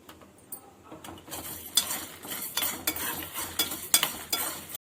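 Urad dal, toor dal and dried red chilies frying in a pan, a soft sizzle broken by repeated scraping and clinking of a spoon against the metal in an uneven rhythm.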